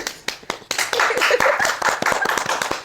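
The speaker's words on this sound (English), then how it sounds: "Can you clap, please?" An audience clapping to welcome a guest, beginning with a few scattered sharp claps and swelling into irregular, fairly loud applause with distinct individual hand claps standing out.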